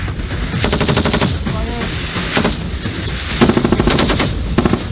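Loud rapid rifle fire on a Singapore military shooting range comes as overlapping bursts of quick shots from several shooters, with a fast rattling rhythm that continues throughout.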